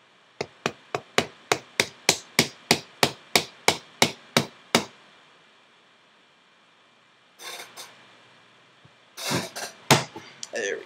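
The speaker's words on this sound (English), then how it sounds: "use the hammer and give it a couple little taps against the table" A hammer taps a Ruger P345 pistol frame part against a table in about sixteen quick, evenly spaced sharp knocks, followed by a pause and a few softer scraping and clicking handling sounds up close.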